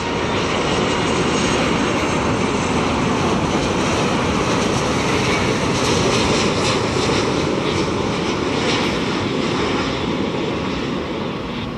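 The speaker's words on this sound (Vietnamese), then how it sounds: "Còn đây là một chiếc Airbus A310-300 khác của hãng không Vietjet Air cũng đang bước vào hạ cánh" A Vietjet Air Airbus A310-300 airliner landing, its engines roaring loud and steady throughout, a broad continuous rush with no break.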